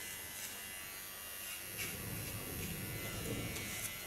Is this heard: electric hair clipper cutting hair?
yes